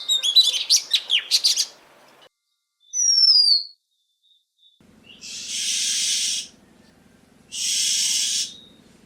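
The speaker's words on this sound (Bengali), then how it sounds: "দোয়েল পাখিরা পরিবেশ পরিস্থিতির উপর নির্ভর করে এক একভাবে ডাকতে পারে।" An Oriental magpie-robin calls: a rapid run of varied sweet whistles, then a sliding whistled note, followed by two harsh hissing rasps, each burst separated by silence, clear and fairly close.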